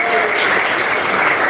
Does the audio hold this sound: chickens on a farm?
no